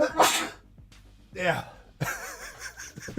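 A sharp sneeze bursts out at the start, followed by a second sneeze-like outburst and then a person talking briefly, all close and fairly loud.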